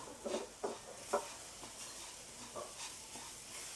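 Coconut powder lightly roasted and stirred in a pan, heard as soft, faint scraping strokes with a gentle sizzle, a few clearer scrapes early on, no talking.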